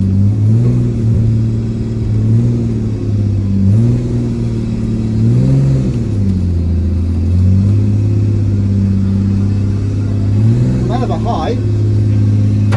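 A Nissan Skyline R33 cruising around an industrial estate, its engine droning loudly inside the cabin and rising and falling in pitch through repeated revs and gear changes, with a brief voice late on.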